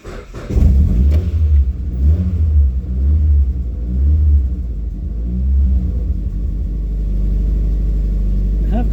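A rattly Nissan engine, due an oil change and showing a battery light, starts and runs near and loud in a garage, a low rumble with uneven surges before settling into a steady idle.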